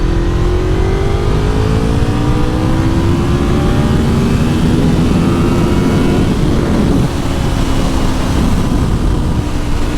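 A 100k-mile Honda VFR750 motorcycle engine revs through the mid-range while riding, loud and close, its pitch climbing and falling smoothly across the stretch with steady wind and road roar underneath.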